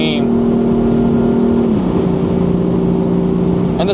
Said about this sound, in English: Just hear this engine scream.